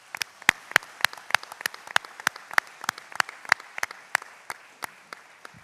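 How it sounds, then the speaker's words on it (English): A small church audience gives a round of applause at a leadership forum for candidates, with a sparse scattering of distinct, sharp hand claps from a few people nearby, no voices over it. "everybody a round of applause for this church"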